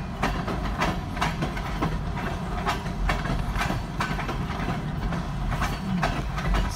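A freight train hauling hopper cars rolls past close by, its wheels giving a steady, rhythmic clickety-clack over the rail joints against a constant rumble.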